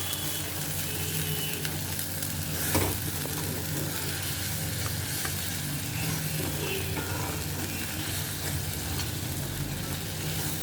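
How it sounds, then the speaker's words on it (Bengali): Spice paste sizzles steadily in a pan after a splash of water, a continuous close frying hiss with light scraping from stirring and one brief clatter, no voices. "একটু জল দিয়ে দিই, নাতে মশলাটা ফুলে যাবে।"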